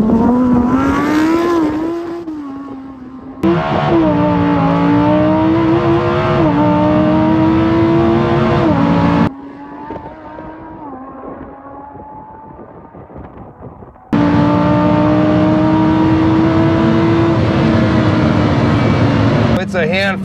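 A Lamborghini Huracan STO with ESC off launches hard for a quarter-mile run, its engine roaring loud and close in rising sweeps, with brief drops between gear changes and wheelspin.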